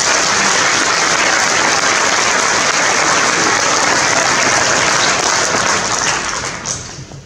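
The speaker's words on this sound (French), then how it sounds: "vous pouvez l'applaudir également" A town-hall audience at a French community council's New Year ceremony in Moselle breaks into loud, dense applause that holds steady for several seconds, then tapers away at the end.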